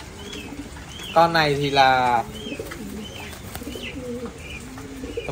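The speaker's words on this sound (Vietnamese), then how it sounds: "Đây là chim bồ câu ra ràng gà Mỹ này." American giant pigeon squabs on a farm make soft, low cooing and chirping in short bursts close by, while someone talks loudly over them.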